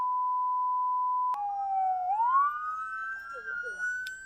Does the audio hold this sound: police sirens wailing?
yes